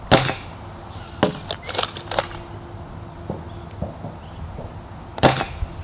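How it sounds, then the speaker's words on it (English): A Dart Zone Aeon Pro X blaster pistol fires darts outdoors, giving sharp snapping pops spread across the moment, with a cluster of shots in quick succession and quieter ambience between them. "We're going to be shooting from 30 meters away."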